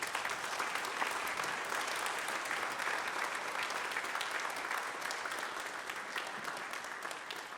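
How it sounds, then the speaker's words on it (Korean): Congregation in a church at a Lenten early-morning prayer service applauding the scripture readers, a steady sustained round of clapping heard from a moderate distance, fairly soft throughout. "성경 봉독자들이 자리로 들어가실 때 박수로 축복하겠습니다"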